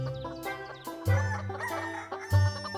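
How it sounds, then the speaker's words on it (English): A rooster crows several times in quick succession in a children's farm-themed bedtime story. The calls are loud, close and stand alone with no talk over them. "Good morning to the rooster."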